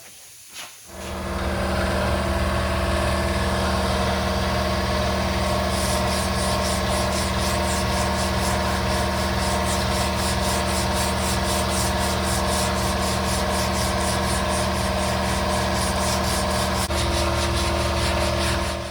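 Steady back-and-forth rasp of block sanding Bondo body filler on a car door, loud and continuous for the full length with an even rhythm of strokes and no talking.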